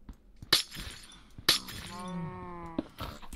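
An ice block shatters in Minecraft, with two sharp glassy smashing bursts about a second apart. A sustained tonal game sound rings between them before a final crackle, and no one speaks.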